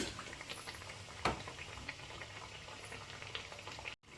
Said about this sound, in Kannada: ಆವಾಗ ನೀಟಾಗಿ ಫ್ರೈ ಆಗ್ತಾ ಇರುತ್ತೆ